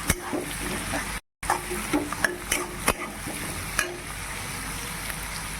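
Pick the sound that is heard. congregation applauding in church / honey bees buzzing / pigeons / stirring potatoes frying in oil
stirring potatoes frying in oil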